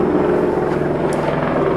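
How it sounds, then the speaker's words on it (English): LAPD helicopter overhead, a loud continuous rotor drone that holds steady through the whole moment with no pause. "Helicopters. LAPD."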